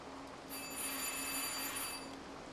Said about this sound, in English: Maybe we can try the doorbells?